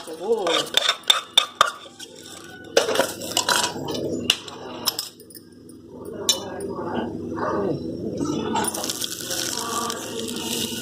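Ingredients for a mango dal payasam are stirred as they roast in a pan, a spoon clinking and scraping against metal in quick taps early on, then a steady sizzling scrape, with a voice talking over part of it.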